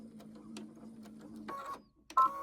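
Sewing machine stitching a quilted hoodie about a quarter inch from a corner, with a steady low mechanical hum and a short faster burst of stitching near the end, close up and alone.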